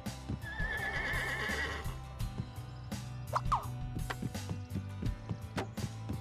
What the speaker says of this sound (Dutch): Maar dat paard is ook bang of zo